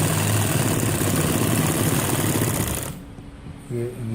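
A sewing machine runs in a fast steady whir while stitching a gents kameez cuff, then stops abruptly near the end, followed by a brief voice speaking.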